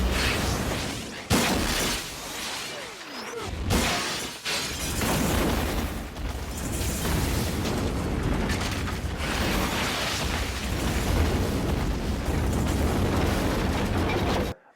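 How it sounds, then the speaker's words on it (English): A motel blown apart by a rocket launcher explosion in the 1997 action film Drive, with a loud sustained roar of blast, shattering debris and crashing wreckage lasting several seconds before cutting off abruptly. "I thought the motel getting destroyed by the rocket launcher, I thought that was a great scene."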